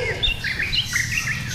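A white-rumped shama (murai batu) songbird, a competition-bred bird at a breeding aviary, gives short bright chirps and whistled notes, close and clear over low background noise.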